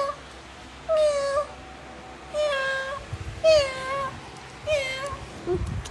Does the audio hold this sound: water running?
no